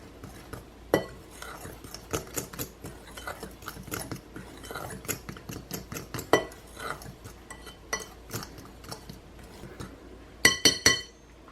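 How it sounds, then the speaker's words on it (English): A utensil stirs flour, baking powder and salt for waffle batter in a bowl, with repeated light clinks and scrapes against the bowl at an irregular rhythm and a faint voice in the background. "I'm just going to give that a good old mix."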